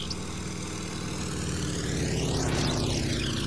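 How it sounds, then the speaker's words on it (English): A propeller plane roars past and climbs away, its engine drone swelling louder and sweeping in pitch as it passes close, with no voices. "As quick as it landed, the plane took off"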